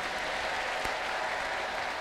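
A church congregation claps together at a sermon in an Ethiopian worship service, a dense, steady wash of applause filling the room, without spoken words.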